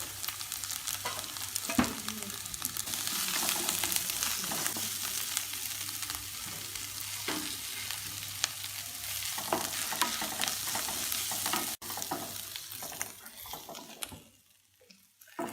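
Turmeric and spices fry in hot oil in a pan for a fenugreek sprouts curry, a loud steady sizzle with occasional stirring scrapes, fading toward the end.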